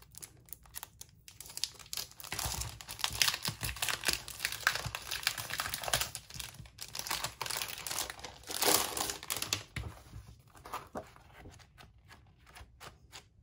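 Insert paper from a planner subscription box crinkles and rustles as it is pulled from plastic packaging, close and busy with sharp crackling bursts, quiet overall and without speech.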